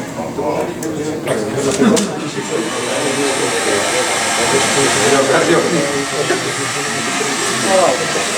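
A heat gun blows a steady, loud airflow hiss while warming car wrap vinyl, with brief handling noises and someone talking over it.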